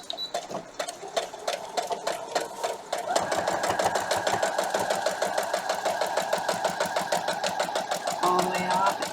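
A sewing machine runs steadily, back stitching a foundation paper pieced quilt block, its rapid needle chatter continuous and close, with brief pauses and faint background talk.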